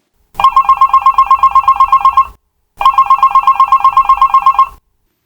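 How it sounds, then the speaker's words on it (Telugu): A mobile phone ringtone used as a sound effect in a stage skit: two loud, close bursts of a rapid, evenly pulsing electronic trill, each about two seconds long, separated by a short silence. "సరిగ్గా అప్పుడే సెల్లు మూగింది"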